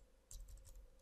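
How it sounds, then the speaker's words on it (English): Keys on a computer keyboard are pressed in a short burst of light clicks. The typing is faint and close, with no talking. "So I'm going to type here php"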